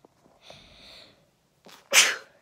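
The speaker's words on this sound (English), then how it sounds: "Sorry, I gotta sneeze." One sharp, loud sneeze bursts out close by after a short intake of breath and a faint vocal sound.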